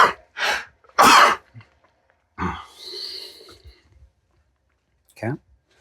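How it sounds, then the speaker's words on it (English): A person sneezes up close, a few sharp breathy bursts with a gasp and snort between them, followed by a short throat sound. "And of course I have to sneeze"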